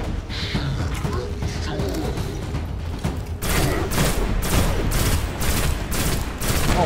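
Rapid bursts of gunfire from the Destiny video game, played on Xbox One, form a series of sharp, evenly spaced shots in the second half. They are preceded by busier game sounds and a quieter rumble.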